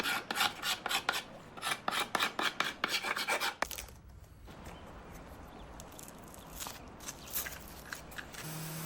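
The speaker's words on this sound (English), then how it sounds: "A few carbide scrapers will first help remove any of the remaining paint." Carbide scrapers rasp rhythmically over an antique painted walnut dresser, with a run of about a dozen quick, even strokes followed by steadier, continuous scraping and rubbing.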